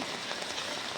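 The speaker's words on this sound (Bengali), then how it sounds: "দেখতে পাচ্ছেন অনবরত বৃষ্টি পড়ছে" Rain falls steadily on Kumartuli, Kolkata, during flooding, a soft continuous patter on surfaces, with no voices.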